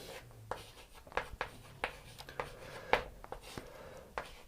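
A pen writes by hand on paper, laying out a probability sample space: a string of quick, faint scratches and taps at an uneven rhythm, close by, with no one talking.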